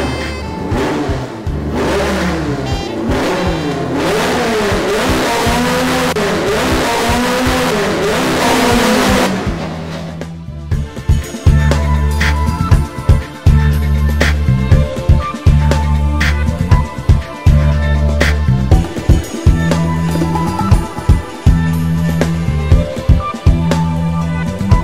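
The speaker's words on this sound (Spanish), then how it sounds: "está en manos de Yamil Violín Junior, cuenta con un motor 1009" Drag racing car with a 1009 engine, a roaring sustained high rev that cuts off, then a loud close idle with repeated rhythmic blips of revving.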